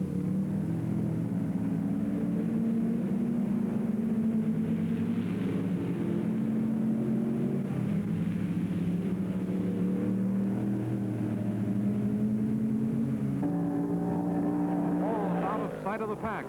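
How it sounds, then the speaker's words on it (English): Race cars at the 1964 Road America 500 road race, a loud continuous engine roar that dips and swells as the pack brakes for a slow turn and accelerates away, with a commentator speaking over it. "Jim Hall outdrags the field and crests the hill first as they start braking for the very slow turn"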